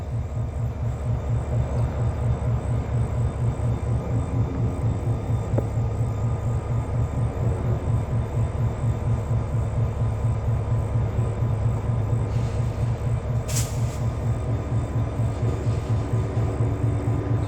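An Australian freight train works the Bluescope yard with a steady, loud rhythmic rumble and clatter of rolling wagons, close by and continuous, with a brief hiss of air near the end.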